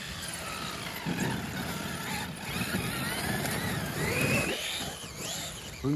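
A small motor whirs unevenly on a Traxxas X-Maxx RC car with a damaged rear differential while something scrapes and squeals against a spinning tire, rising and falling in short bursts.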